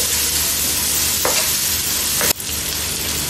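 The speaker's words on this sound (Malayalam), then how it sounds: "ഒരു 5 മിനിറ്റ് ഇങ്ങനെ ഇളക്കി കൊടുക്കാം" Onions sautéing in a pan while being stirred, a loud continuous sizzle close up with a couple of scraping strokes of the spoon, the second sharper and followed by a slight drop in level.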